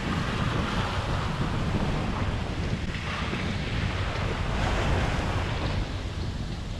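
Strong wind blows steadily across a sailboat at sea on the Mediterranean between Sotogrande and Gibraltar, with a dense roar of gusts buffeting the microphone and rushing water underneath. It is loud and continuous, with no talking.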